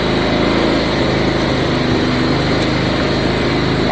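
A Honda Deauville motorcycle engine idles steadily after a carburetor clean, a loud, even high-pitched buzz running unbroken from start to finish with no voices.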